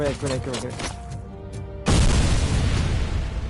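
A grenade goes off in Robocop: Rogue City as a sudden, loud, deep boom that follows chatter and game sounds and then rumbles on in a heavy, sustained roar.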